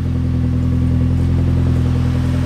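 A turbocharged Mitsubishi Lancer idling loud and close just after a cold start, a constant low, throbbing engine rumble with no talk over it.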